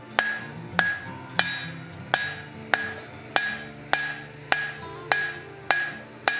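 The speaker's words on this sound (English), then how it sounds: "now I'm going to scarf the end here in anticipation of the weld." Hammer blows on hot steel as the end of a hand-forged axe is scarfed for a weld: ten sharp, ringing metallic strikes at a steady, even rhythm, close and loud, with no talking.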